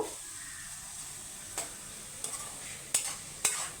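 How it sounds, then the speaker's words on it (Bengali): Steady sizzle of spices, including cumin powder, frying in leftover fish-frying oil in a pan, with a few sharp scraping clinks of a spoon stirring at intervals. "এখন মশলাগুলো একটু কষিয়ে নেব"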